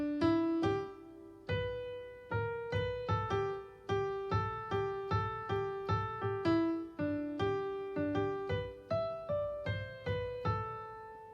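The rhythm of a song is played on a plucked, piano-like instrument, a chain of short, clear notes in a bouncy pattern with brief rests, close and alone.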